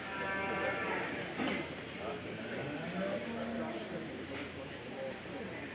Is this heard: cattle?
yes